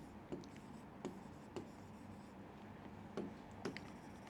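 Pen strokes on paper while an accounts entry is written out by hand: a handful of short, soft scratchy taps and scrapes at irregular intervals, close and quiet over a low room hiss.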